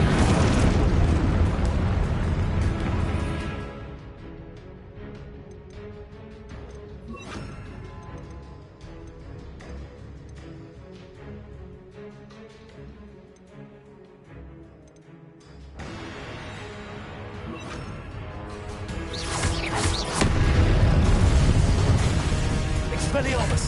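Confringo fire spells in Hogwarts Legacy burst as loud, rumbling explosions at the start and end, with a quieter stretch of game noise and talk between the blasts.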